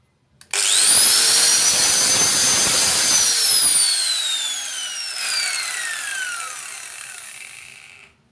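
Machine powered up through a soft start capacitor bank: a loud rising whine climbs quickly and holds steady, then slowly winds down in pitch over several seconds before cutting off, with no talking.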